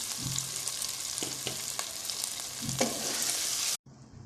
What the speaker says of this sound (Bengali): আলু কষানো শেষ, এখন আমি চালটা দিয়ে খুব ভেজে নিই